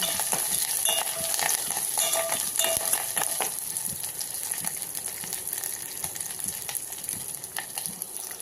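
Curry leaves crackle in hot oil in a pan, a continuous bright sizzle broken up by rapid spitting pops and light stirring taps, close and fairly loud.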